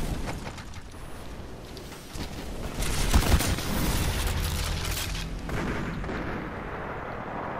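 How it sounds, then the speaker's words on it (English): Heavy automatic fire from an LMG machine gun in Titanfall 2, a dense continuous rattle with booming impacts that swell louder midway and stay sustained to the end. "God, I love this LMG, man."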